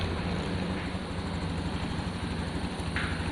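Honda automatic scooter engine, a 2021 Scoopy, Beat or Genio with a sputtering fault, held at a steady, low drone while the throttle is opened and the revs refuse to climb, continuous and close.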